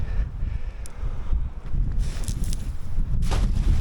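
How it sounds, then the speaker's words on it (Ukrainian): Wind buffeting the microphone in uneven low rumbling gusts at a pond in December, with faint rustling of a net and a few light handling noises, no talking. "її прям зносить вітер"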